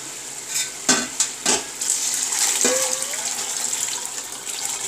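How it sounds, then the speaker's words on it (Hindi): Yakhni stock poured into a pot of browned chicken for yakhni pulao, a few sharp metal knocks giving way to a steady close rush of liquid hitting the hot pan. "अब मैं इसमें यखनी डाल रही हूँ।"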